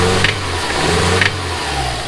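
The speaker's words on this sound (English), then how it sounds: "this engine here as you heard has a healthy rod knock" A Subaru EJ205 engine with rod knock running loudly and continuously up close, with a low rough undertone and a couple of brief higher clanks.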